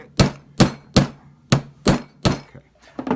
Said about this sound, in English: You could use a vise, and you just hammer it flat